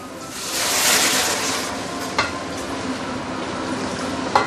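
Hot water pours into a pan of curry paste for curry fish head, giving a loud, continuous hiss and sizzle with a splashy surge early on and a couple of sharp clinks.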